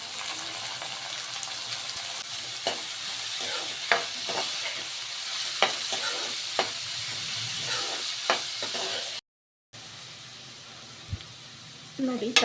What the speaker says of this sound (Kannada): ನೋಡಿ, ತರಕಾರಿ ಎಲ್ಲ ಚೆನ್ನಾಗಿ ಫ್ರೈ ಆಗಿದೆ.